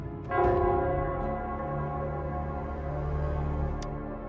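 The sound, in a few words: bell ringing in the video game Wuthering Waves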